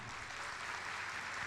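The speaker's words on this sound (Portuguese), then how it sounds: "Uma salva de palmas" An audience at a Christian congress lecture gives a round of applause for a visiting professor: soft, even, distant clapping that blends into a continuous hiss for the short moment, with no voices over it.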